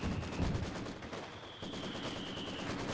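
Gunfire in a 4v4 tournament video game battle, with mortar and support units in play: dense, continuous crackling bursts of shots layered over rumbling battle noise, loud throughout.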